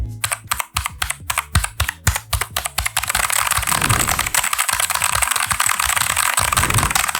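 Redgear Shadow Blade MK853 mechanical gaming keyboard with blue switches, typed on up close: first a run of distinct, sharp clicky keystrokes, then fast continuous clattering typing that rattles on to the end, with no talking.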